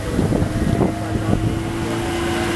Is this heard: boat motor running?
yes